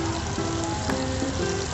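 Onion frying slowly in olive oil over low heat as the base of a tuna pasta sauce, a soft, even, continuous sizzle close by with no voices.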